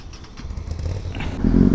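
A Benelli 600i motorcycle fitted with a loud aftermarket exhaust revs close by, its engine note rising and growing louder toward the end in a short burst.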